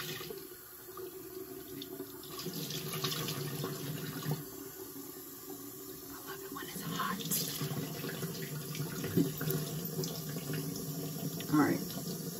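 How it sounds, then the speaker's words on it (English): A bathroom or kitchen tap runs steadily to soak a rag, a continuous close hiss of water with small splashy changes, heard alone. "I'm going to get my rag wet."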